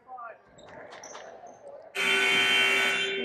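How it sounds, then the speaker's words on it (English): A loud, sustained electronic buzzer sounds during a timeout at a girls' varsity high school basketball game, cutting in after a stretch of gym noise and ball bounces and droning steadily to the end while a commentator talks. "And there is the buzzer."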